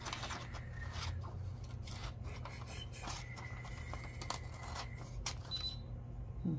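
Paper for a junk journal page is cut with scissors in a quiet room, a series of soft, close snips and paper rustles spread steadily across the stretch.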